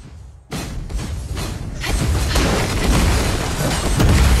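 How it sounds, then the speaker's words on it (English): A tower collapses in Arena of Valor, a sudden heavy crash that breaks in after a quiet moment and swells into a loud, sustained rumble of crumbling debris and impacts. "Your team has destroyed a tower!"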